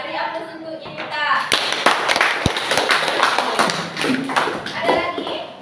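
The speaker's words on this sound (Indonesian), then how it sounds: "beri aplaus untuk Yenita" Classroom applause for a student named Yenita, a group of pupils clapping together in a steady, dense patter of hands that fills the room, with some voices mixed in.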